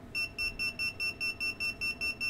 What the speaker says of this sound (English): This is a simple piezo alarm with an external LED.